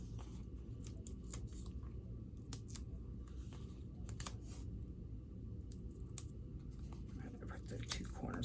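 Scissors snipping out paper card shapes of foxes and other animals for a Christmas tree card, sharp quiet cuts scattered at irregular intervals in a hushed room.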